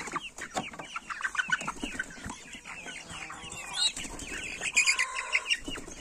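Black Copper Marans hens let out of a cage onto open ground for the first time, clucking and squawking with bursts of wing flapping, close and busy, with a few higher rooster-like calls.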